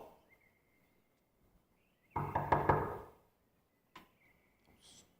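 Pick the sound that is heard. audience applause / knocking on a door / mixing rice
knocking on a door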